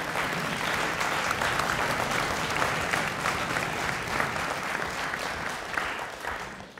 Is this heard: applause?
yes